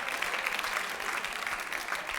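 TV game show studio audience applauding, a dense, steady wash of clapping that holds at an even level throughout with no voices standing out.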